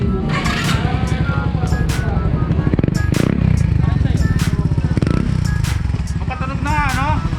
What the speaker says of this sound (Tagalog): Subukan kong testingin kung wala yung silencer na yan. Yan, medyo semi-open pipe na siya ngayon.